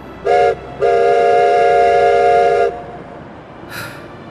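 A train at a railway station sounds a loud whistle: a short blast followed by a longer steady one of about two seconds, with a faint higher toot trailing off afterwards.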